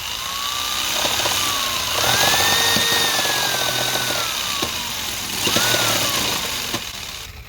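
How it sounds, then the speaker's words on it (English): A power saw cuts wood for cutting board riser legs, giving a loud, steady whine that rises and falls in pitch as the blade bites. Faint clicks and knocks sound beneath it. "Got my saw out, started to saw away, okay? Gonna get loud, plug your ears"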